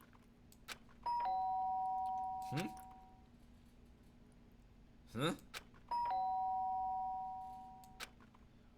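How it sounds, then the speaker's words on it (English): Doorbell in the video game Danganronpa rings twice, each a sustained electronic chime tone, with a short vocal sound and game effects between the rings. "The sharp sound of the doorbell pierced my sleepy haze and pulled me back to the real world."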